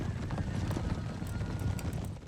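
Hooves of horse grenadier cavalry in the strategy game Empire: Total War clatter steadily in a dense clip-clop mass, with occasional whinnies over a constant battlefield din.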